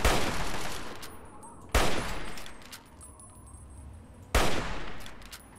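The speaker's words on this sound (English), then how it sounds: "I just like how the hunting rifle sounds." Three loud, sharp hunting rifle shots from Fallout 3, spaced a couple of seconds apart, each ringing out with a heavy crack and a long fading tail, aimed at super mutants.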